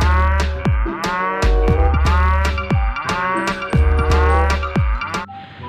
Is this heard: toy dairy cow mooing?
yes